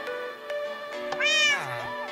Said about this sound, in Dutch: Ik wil die kat.